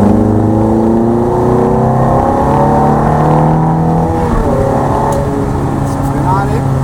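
A Ferrari 430 accelerates hard on a wet Mugello track, its loud engine note climbing and shifting from inside the car, with an instructor talking over it.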